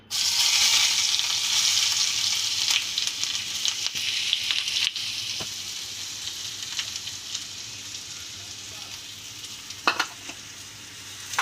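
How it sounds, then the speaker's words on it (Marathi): Chopped onion hits hot oil in a pan for a bitter gourd fry, bursting into a loud, dense sizzle that gradually settles into a steady frying hiss, with a few faint stirring clicks. "तेल तापलंय. आता आपण कांदा टाकून घेऊया."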